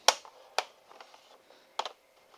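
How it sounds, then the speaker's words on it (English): An old credit card is run along the edge of a Dell Precision 7530 laptop keyboard enclosure, giving a few sharp plastic clicks and scraping ticks spaced irregularly, close and quiet. "So we're just gonna run this old credit card up the top,"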